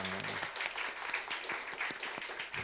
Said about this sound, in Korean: 우리 하나님 앞에 영광의 박수 돌리도록 하겠습니다